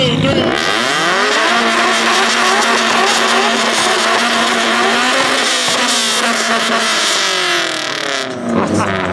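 Two car engines, one a Nissan S15, rev together at a rev battle, loud and close, with rising and falling engine pitch and a steady roar throughout, then cutting off near the end.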